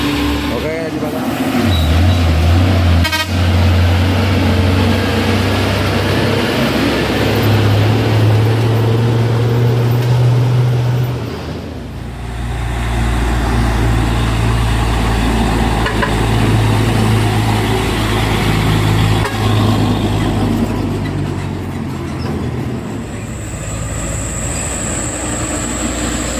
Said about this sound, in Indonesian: satu unit truk Sino Ranger bermuatan berat ya, akan menanjak